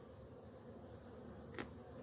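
A steady, dense insect buzz hums continuously, faint and even, like many bees droning together.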